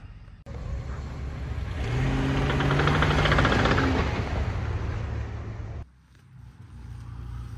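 A Jeep Commander engine with a 2-inch lift starts and runs nearby, rising in a loud rev that settles into a steady run before cutting off abruptly, leaving quiet.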